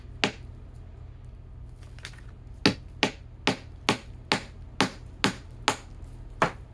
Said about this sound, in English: then you crack open the claw